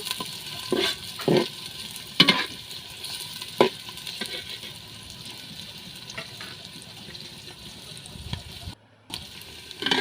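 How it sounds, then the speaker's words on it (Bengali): Chopped onions fry in hot oil until brown for a royal-style meat dish, a soft, low sizzle broken by several sharp stirring clinks and scrapes, with a short dropout near the end. "পেঁয়াজ কুচি বাদামি করে ভেজে নেব"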